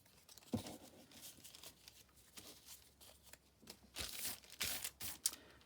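Paper is torn into pieces to make faux junk journal stamps: rough ripping and crinkling in uneven bursts, close up, growing louder and more frequent toward the end.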